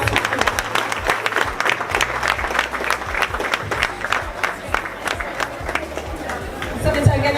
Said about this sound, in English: Let us give Senator a round of applause.